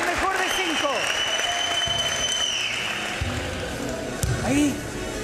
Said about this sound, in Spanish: Vamos, aplauso.